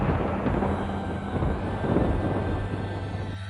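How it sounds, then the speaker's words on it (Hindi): Deep rolling thunder rumbles steadily, a broad low roar that swells slightly before easing off. "तभी दोनों ने सुनी एक भयंकर बादल गरजने की आवाज़।"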